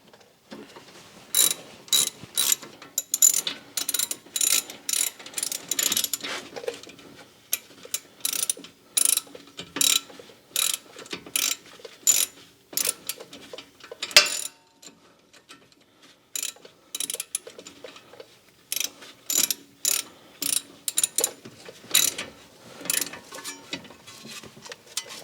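A ratchet cranks down bolts on the front brakes of a Subaru Outback with 182,000 miles, close rapid clicking in repeated bursts separated by short pauses.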